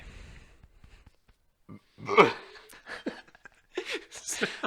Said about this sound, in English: I just pretty much burped myself